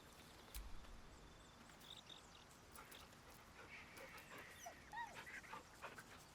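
Dog in the video game Baldur's Gate 3 whimpering and panting, soft high whines and breathy pants repeating irregularly at a low level, with no speech.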